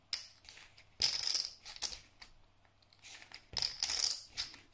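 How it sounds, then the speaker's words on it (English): Close, crisp clicking and clattering of Paulson clay poker chips riffled together in several quick bursts separated by brief pauses. "Once they're broken in a bit, they just shuffle so well,"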